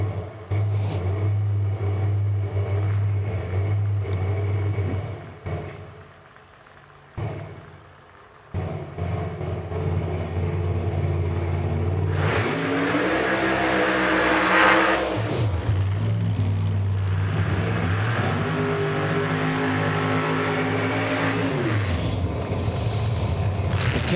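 A 1969 Camaro drag car with a big bore-space nitrous engine on a drag strip: a loud, sustained engine roar that briefly dips, then surges into hard revving before settling into a steady, powerful drone.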